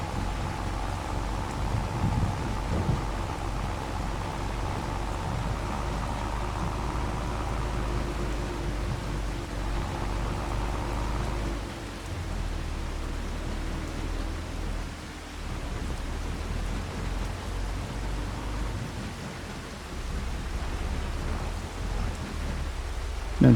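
Steady rain hisses down on a farm during a thunderstorm, with low rolling thunder rumbling underneath and swelling and easing over more than twenty seconds; no one speaks.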